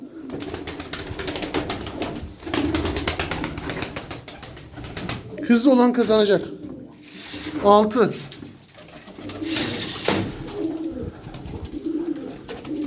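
Pigeons cooing in a bird-counting contest, with several bouts of low, throaty cooing rising clearly around the middle of the clip while people talk throughout.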